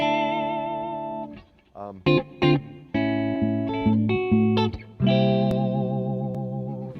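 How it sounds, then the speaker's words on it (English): Electric guitar with warm slide playing, moving between sustained clean tones and gainier overdriven notes through effects, with ringing held chords and short plucked phrases, loud and close. "Beautiful clean tones, but it takes the gain and the overdrive real well too."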